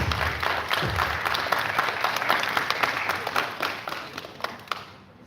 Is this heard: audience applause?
yes